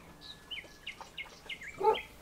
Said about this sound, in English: All the birds of Oxfordshire and Gloucestershire.